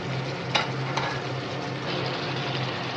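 Fried potatoes sautéing in spice masala for potol chingri, a steady dense sizzle with a couple of faint utensil taps, continuous and close with no talking.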